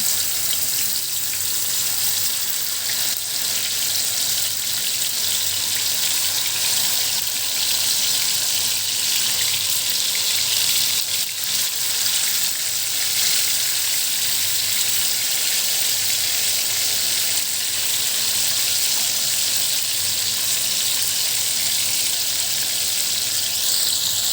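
Chicken pieces frying in hot oil in a home kitchen, making a steady, dense hiss and sizzle that continues unbroken and fairly loud throughout, with no voices.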